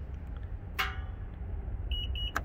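A soft electronic beep from a Honda Odyssey power liftgate sounds a few short times near the end, after a brief click, over quiet background hiss.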